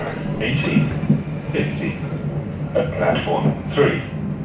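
A commuter train runs on the short trip from Este to Monselice with a folding Hitway BK35 e-bike aboard, giving a steady rumble with squealing wheels and high whines, and voices talk faintly in the carriage.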